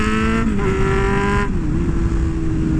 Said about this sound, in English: the exhaust sounds absolutely amazing